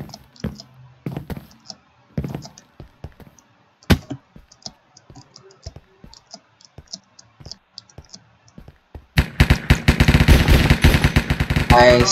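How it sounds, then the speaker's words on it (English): An M4 rifle in a Minecraft cops-and-criminals mod fires a loud, rapid automatic burst near the end, after a stretch of sparse clicks and single taps in a quiet scene. "Alright, let's try the M4."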